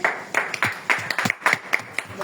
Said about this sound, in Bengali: ওনাদের জন্য একটা করতালি হোক।